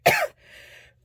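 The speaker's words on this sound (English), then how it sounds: "all of a sudden, I just started this coughing fit" A single harsh cough close to the microphone, a short loud burst followed by a softer raspy exhale trailing off into quiet.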